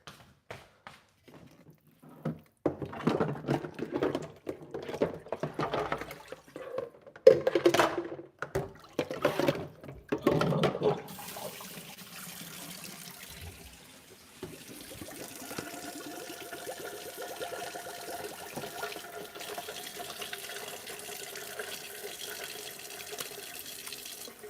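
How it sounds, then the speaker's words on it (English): Hands washed under a running kitchen sink tap: splashy bursts of water and rubbing for about ten seconds, then a steadier, quieter stream of flowing water, close by with no talk. "I just went to the kitchen sink and washed them."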